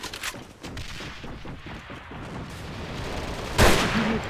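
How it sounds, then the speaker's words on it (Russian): Gunfire and a grenade blast in a video game: a steady rattle of rapid shots runs throughout, then a louder burst hits near the end. "Бросаю гранату!"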